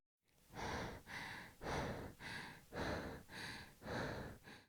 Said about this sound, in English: I can hear her breathing.